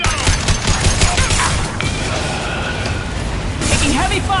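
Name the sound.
gunfire from a video game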